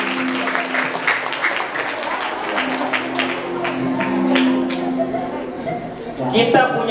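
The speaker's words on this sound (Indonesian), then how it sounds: "Boleh tepuk tangan." Children applauding during a storytelling session at an Islamic elementary school, a dense clatter of many small hands clapping at once, with voices talking and calling out over and under the clapping toward the end.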